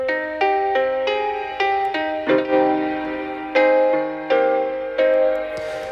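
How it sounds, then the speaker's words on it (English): A Japanese-style hybrid key synth preset from Serum plays a short melodic phrase of bright plucked notes, each struck and decaying with a bell-like shimmer, clear and close with no other sounds. "It's kind of like a Japanese hybrid key sound."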